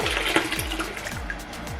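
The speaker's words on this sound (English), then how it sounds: "You're gonna dunk your hair in the water and then scrunch up." Hair dunked and sloshed in a basin of water while being styled into natural curls: close, loud watery splashing and churning with repeated low swishes, and no talk over it.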